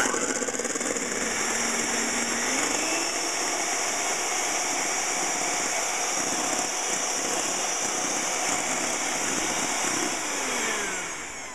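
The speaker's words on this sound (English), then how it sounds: "that's when you begin to increase the speed and go for the fully whipped egg white" An electric mixer whips egg whites in a steady, loud mechanical whir that holds throughout, its pitch rising as the speed is increased, with no talk over it.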